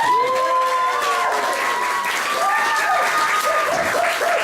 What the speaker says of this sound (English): big round of applause for James Neal, my best man